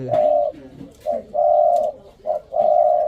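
A decoy dove, a big-headed cooing bird, gives a loud, close series of rolling coos in short, repeated phrases with brief pauses between them and no talking.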